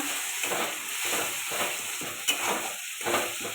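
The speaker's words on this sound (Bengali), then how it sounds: "এটা ভালো করে কষাতে থাকবো।" Tomatoes frying in oil with green chilli and ginger paste while a spatula stirs them in rhythmic scraping strokes over a constant sizzle. The sound is close and there is no talking.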